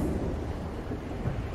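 Thunder from a lightning strike in the game Another World: a deep rumbling roll mixed with rain and storm noise, loud and steady for a moment.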